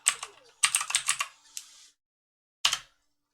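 Quick bursts of keystrokes on a computer keyboard, close and clear, typing a name in short clusters with a pause before a final flurry; no talking.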